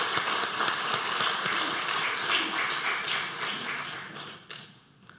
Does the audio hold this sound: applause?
yes